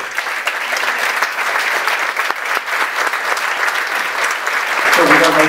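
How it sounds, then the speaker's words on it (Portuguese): A live audience applauds steadily at a Portuguese radio-themed evening event, dense clapping filling the whole stretch and swelling slightly near the end as a voice begins speaking over it. "E, portanto, antes de lhes passar a palavra, gostava de pedir um grande aplauso para o Fernando Alves."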